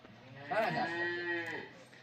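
A dairy cow at a cattle sale gives a single drawn-out moo, fairly close, rising and then tapering off over about a second amid quiet surroundings.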